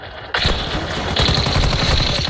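Bursts of BAS-B battle rifle fire from Call of Duty Warzone Mobile: loud, rapid shots begin after a brief quieter moment and continue as sustained automatic fire to the end.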